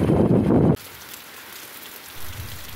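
Heavy rain in the Bahia backcountry, Brazil, falls with a loud rushing burst at first, then drops to a quieter, steady patter with light wind noise.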